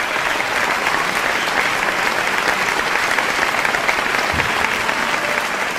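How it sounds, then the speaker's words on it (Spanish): Sustained audience applause at a live tribute concert honoring a musician, thick even clapping from a large crowd, steady and loud with no pause. "Un fuerte aplauso para él."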